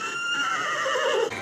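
A wild stallion in The Man from Snowy River film neighs in a long, loud, quavering whinny heard close up and alone, ending with a brief drop-off.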